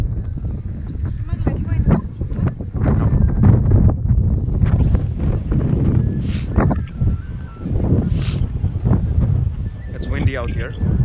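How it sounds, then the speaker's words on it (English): Strong wind buffeting the microphone on the exposed clifftop at the Cliffs of Moher in Ireland, a constant low roaring rumble with gusts, heard under a person talking. "It's windy out here and chilling."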